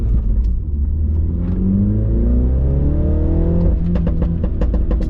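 A front-wheel-drive hot hatchback engine revs hard at full throttle out of a corner, its exhaust note rising in pitch and then holding a loud, raspy drone close by.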